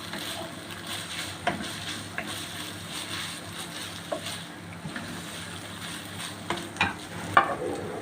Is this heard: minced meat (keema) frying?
yes